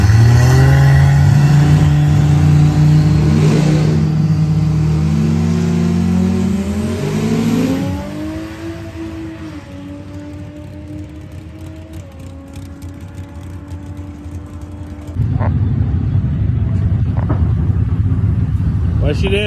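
A turbocharged race car at a cash drag race pulls hard at raised boost: a loud engine note climbs steadily, then drops back to a quieter drone before rising again as the run ends, with voices talking over it.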